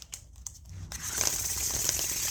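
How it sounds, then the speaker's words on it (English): Tarot cards riffle and crinkle close by, a few soft taps followed by a sustained papery rustling shuffle. "We're gonna give this one a little shuffle too."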